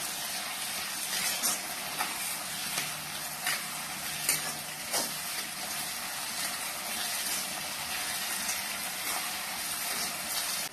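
Tomatoes cooking down with salt in a pan for egg kothu parotta, a soft continuous sizzle with occasional light stirring clinks and scrapes, moderately quiet and close, no voices.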